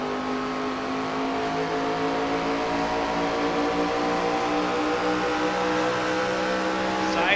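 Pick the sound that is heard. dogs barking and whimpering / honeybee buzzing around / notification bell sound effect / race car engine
race car engine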